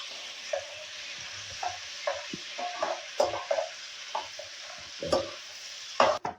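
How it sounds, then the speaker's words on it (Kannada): Butter melting in a hot pan while a ladle spreads it around, producing a low continuous sizzle broken by repeated scraping strokes and clinks of metal on the pan, close up with no talking. "ಬೆಣ್ಣೆ ಹಾಕಿದ್ಮೇಲೆ ಒಂದು ಸೌಟಿನ ಸಹಾಯದಿಂದ ನೀಟಾಗಿ ಸ್ಪ್ರೆಡ್ ಮಾಡ್ಕೋಬೇಕು"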